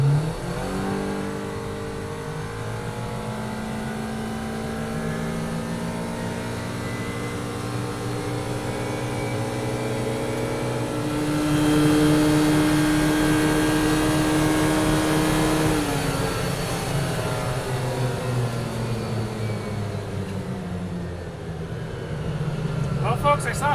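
A Kawasaki Ridge Crew side-by-side in sport mode and two-wheel drive accelerates hard toward top speed, its engine droning steadily from inside the closed cab and rising in pitch through the gears, with a voice heard over it.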